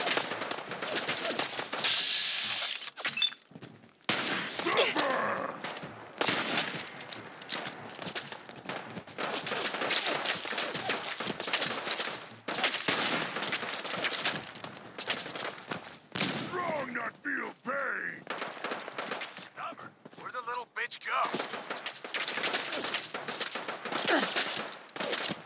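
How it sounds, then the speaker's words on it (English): Gunfire in Fallout 4, with repeated shots and bursts cracking through a dense, noisy game mix, heavy for most of the stretch, with quieter gaps between volleys. "I have a never-ending fucking sniper rifle"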